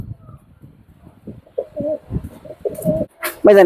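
Pigeons coo in a pigeon loft with low, throaty calls, starting faint and growing louder and closer, ending in a strong burst of cooing and flutter.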